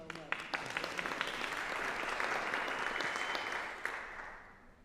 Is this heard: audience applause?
yes